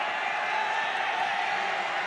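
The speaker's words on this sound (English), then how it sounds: "As the crowd goes wild." Crowd at an offline esports playoff match, Bigetron Alpha versus EVOS Glory in Indonesia's MPL, cheering in a steady, dense roar of massed voices and whoops filling a large venue throughout.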